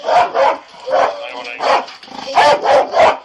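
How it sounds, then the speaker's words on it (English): Police dog barking in a rapid, loud, close series of about seven sharp barks, with a brief pause in the middle. "We're gonna send that dog in."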